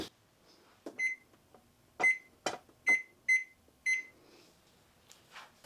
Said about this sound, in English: Let me go ahead and set a timer for that.